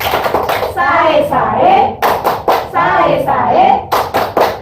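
A group of people clap together at a community parenting session in Indonesia, two bursts of rhythmic hand claps separated by a voice talking over the room.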